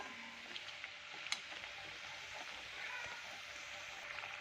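Bhaji vada, vegetable-packed Malgaon-style fritters, frying in hot oil with a steady, even sizzle and a few faint pops, one sharp crackle standing out briefly.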